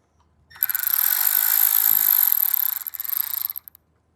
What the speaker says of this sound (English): So we take the top bolt out.